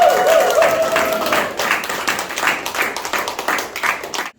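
Applause from a church audience closing a prayer-training class session, dense steady clapping across the clip with a brief tonal sound at the start, fading out at the end.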